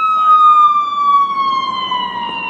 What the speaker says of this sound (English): That's ambulance.